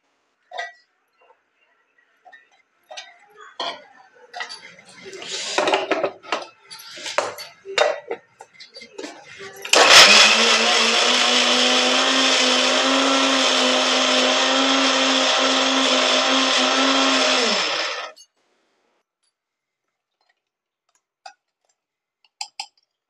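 A few light clinks and knocks, then a mixer grinder whirs loudly and steadily for about eight seconds, grinding garlic, before cutting off into quiet.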